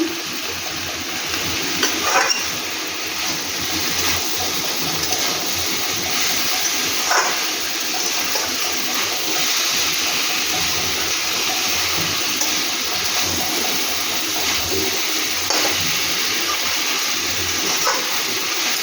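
Water splashes into a hot pan of frying dal tempering, giving a steady broad sizzle and bubbling hiss that runs close and continuous, with brief clatters of stirring.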